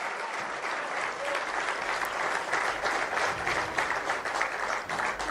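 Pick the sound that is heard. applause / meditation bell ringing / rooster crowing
applause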